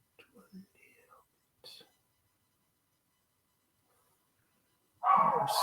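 Puppies at home break into a sudden, loud burst of barking at the very end, after a stretch of quiet, whispered speech and silence.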